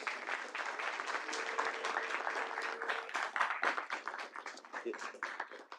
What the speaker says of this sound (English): Let's give a round of applause to John Lewis